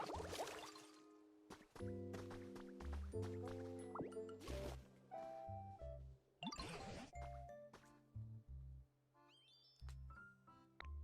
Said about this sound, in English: It's not my fault that you're standing on grass that I need to water.